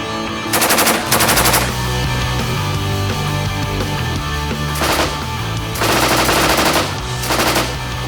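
A Heckler & Koch MG4 machine gun fires several loud, close bursts of rapid automatic shots, separated by short pauses, with no talk over them.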